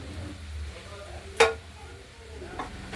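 Chopped banana flower dropped into a pan of sizzling fried spice paste for a potato and peanut ghonto, a single sharp clatter and stir of a spoon against the pan over a faint low sizzle.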